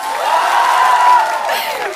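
An audience claps and cheers together at a singer's album unboxing event, a dense wash of applause with whoops that swells and then tapers over a couple of seconds.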